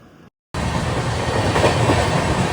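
A brief quieter stretch and a moment of silence give way to a loud, steady rumble and clickety-clack from inside a moving passenger train bound for Udaipur, continuous and close.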